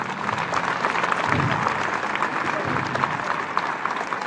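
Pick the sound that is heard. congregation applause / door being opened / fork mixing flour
congregation applause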